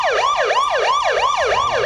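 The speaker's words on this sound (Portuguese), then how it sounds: "Coloca essa sirene aí pra mim, por favor" A siren wails in fast, repeating up-and-down sweeps, loud and close, with no voices.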